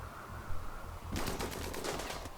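Machine pistol fire in the video game Rimworld breaks out after a quiet moment as a rapid, crackling burst of shots that keeps going to the end.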